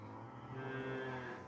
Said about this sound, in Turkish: ineklerimizin cinsi de simenter